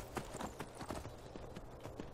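Rapid galloping horse hooves from the video game Skyrim pound in a fast, even rhythm, moderately loud and alone without talk.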